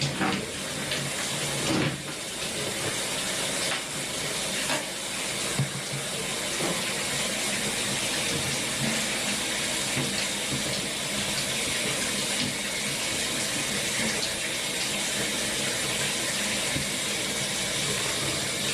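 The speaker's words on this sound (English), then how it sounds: "I like to just grab their paws when I do it and rinse them with the water again." Steady running water rinses a Jack Russell terrier's paws during a bath, a continuous close gush of tap water splashing over fur and into the tub with no talk.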